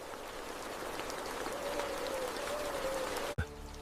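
Dense, steady rain hisses evenly in a Sundarbans mangrove forest, with scattered drops pattering throughout, followed by a sudden thump near the end.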